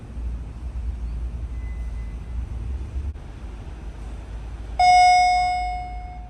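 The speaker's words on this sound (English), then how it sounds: "What a loud and obnoxious bell that is." After a quiet hum, a single loud elevator arrival bell chime rings out and slowly decays, close by and alone, in a modernized traction elevator at a mall garage.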